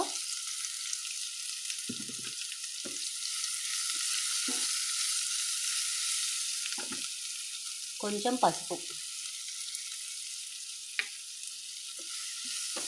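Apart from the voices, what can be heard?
tempering spices sizzling in oil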